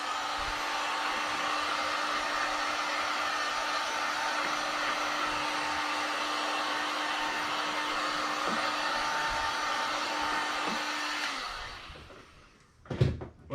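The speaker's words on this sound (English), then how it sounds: "take your heat gun or your hair dryer" A heat gun or hair dryer warms a vinyl headliner on a Miata hardtop, a steady airy blowing hum close by that shuts off near the end, followed by a few light handling knocks.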